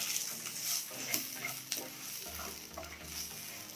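Sliced onion, garlic cloves and curry leaves fry and get stirred in a pan for sprouted horsegram sambar, a soft close sizzle broken by scraping spatula strokes, with no voices.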